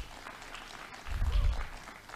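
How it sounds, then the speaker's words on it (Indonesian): Applause from the audience at an advocates' swearing-in ceremony held by Ikadin in Central Java in 2022 forms a faint, distant patter that swells briefly in the middle before easing back. "Tepuk tangan."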